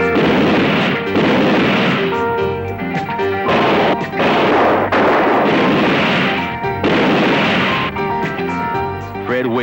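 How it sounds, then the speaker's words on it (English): Loud shotgun blasts and booming gunfire from a 1976 crime action film trailer, several heavy bursts in quick succession with dense music and effects throughout. "With his shotgun on you, he'll blow you in two."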